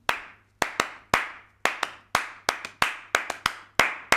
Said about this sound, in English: Flamenco traditionally is guitar and voice and palmas, which is hand clapping.